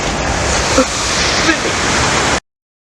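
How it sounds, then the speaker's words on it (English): Minnehaha Falls on Minnehaha Creek in Minneapolis, a loud, steady roar of falling water with no talk over it, cutting off abruptly. "So this is Minnehaha Falls, which is on Minnehaha Creek."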